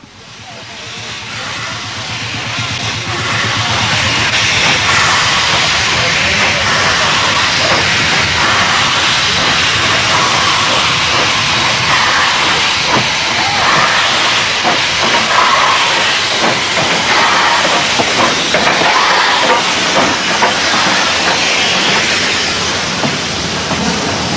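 A steam train arrives, with loud continuous hissing steam building up after a quieter start and mechanical rumbling underneath, close and sustained throughout.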